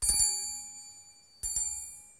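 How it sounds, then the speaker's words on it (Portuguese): Two bright bell dings, each ringing out and fading slowly, with a pause between them; a clean notification chime heard alone. "não esquece de ativar o sininho. Badala aí, Yogi!"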